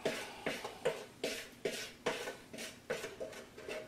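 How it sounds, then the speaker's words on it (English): A metal utensil scrapes and taps against a pot to knock off celery seeds, about ten rhythmic, evenly spaced strokes, close and moderately loud with no talking. "Scrape the thing off, because I want all the little celery seeds and all that good stuff right there to get in there."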